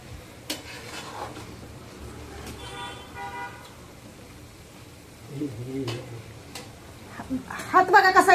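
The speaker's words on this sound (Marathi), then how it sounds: "ह्या स्टेपला सारखा हलवत राहायचं कांदा" Onions are stirred in a pan for Maharashtrian kala masala, with intermittent spatula scrapes and soft sizzling. Clattering utensil knocks grow louder toward the end, amid some background noise.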